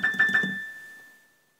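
A few quick high piano notes struck in succession, then one bright tone left ringing and slowly fading into silence.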